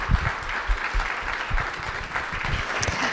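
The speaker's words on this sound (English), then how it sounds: "I think we should all, first and foremost, give Dustin a round of applause for all the planning that he's done" Sustained applause from a conference audience at a closing plenary, a dense steady wash of clapping with a few louder individual claps near the microphone.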